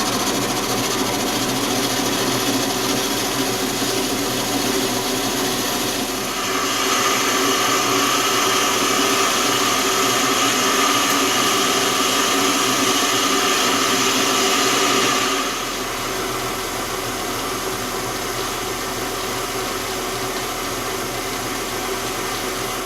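A small 9x20 (250x550) metal lathe turns down an extended piece for a cross slide dial, giving a steady, loud machine whir with a brief rise in intensity midway, no voices.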